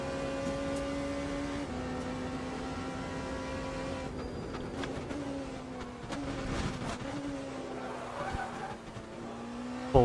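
A race car four-wheel slides through a corner at sunset in a WEC endurance race, its engine droning at a steady pitch that dips and rises slightly, with a sudden louder burst at the very end.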